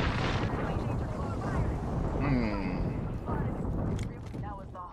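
Artillery barrage in a video game, heard as a dense, continuous booming roar with wind-like noise filling the whole stretch, while people talk over it.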